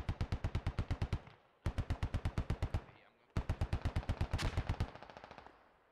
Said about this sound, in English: Command, heavy infantry fire to our north, likely infantry contact